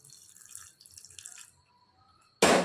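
Cooled boiled milk poured into a bowl of mashed sweet potato for a pancake snack, arriving as one short, loud splashing burst at the very end after near silence.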